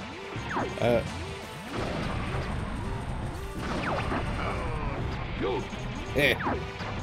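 Repeated bomb blasts and crashing impacts as a crane is destroyed in Star Fox 64, loud and dense over continuous game noise and music, with several sharp hits standing out.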